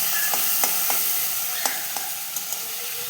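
Ginger, garlic, onion and tomato frying in hot oil are stirred in a pan, giving a steady close sizzle broken by light scraping and clicking strokes, with no talking.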